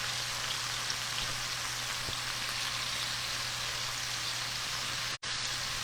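Scallops searing in a non-stick pan give a steady, loud, close sizzle that runs unbroken, with one brief dropout near the end.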